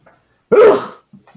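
A single sharp sneeze from a person, a sudden loud burst that quickly trails off, with faint low murmurs just before and after.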